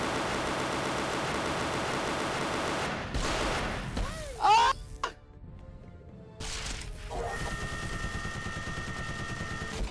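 Gunfire in the shooter video game Microvolts Surge rattles steadily at first, then gives way to game effects, a sharp burst, brief quiet, and renewed firing under music.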